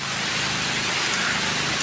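Steady heavy rain pours over a palm oil plantation in Malaysia, a dense, even hiss of drops on leaves and surfaces with no break, loud and close throughout.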